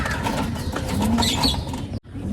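A pigeon being handled in a loft flaps its wings in a soft, fluttering burst, close up, with the rustle ending in a brief sharp cutoff.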